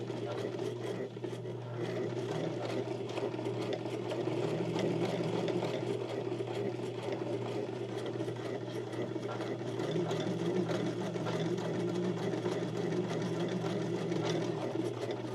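An Emdeko JA21 domestic sewing machine runs continuously, a steady close motor whir and needle clatter sewing straight and zigzag stitches without pause.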